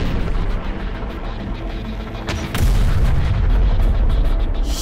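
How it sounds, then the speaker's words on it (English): Heavy explosions in the video game Terminator: Dark Fate - Defiance as a tunnel is blasted through a cliff: loud, dense rumbling battle noise with a sudden deep boom midway that keeps roaring to the end. "They just blew a tunnel through the cliffside!"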